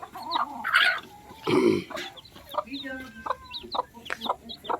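Chickens and black chicks being given feed, with clucking and short calls close by, bursts of rustling and thin chick peeps in between, and some talking mixed in.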